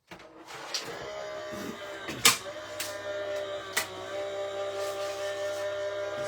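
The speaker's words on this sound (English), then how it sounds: "you would pop your card on the top like so and cut that through your machine" A die-cutting machine rolls card through with a large nature-themed die, giving a steady mechanical whir and hum with a few clicks and knocks, close and moderately loud, with no voice.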